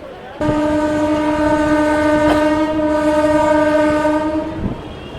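A train on the Visakhapatnam to Araku line sounds one long, loud, steady horn blast lasting several seconds, which then cuts off over a continuing rumble of the moving train.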